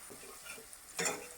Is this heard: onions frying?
yes